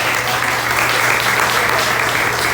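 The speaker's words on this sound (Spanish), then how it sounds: "Denle un aplauso a esa palabra, hermano" A church congregation claps steadily and loudly during a sermon, a continuous wash of applause with no pause throughout.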